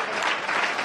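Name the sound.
audience applause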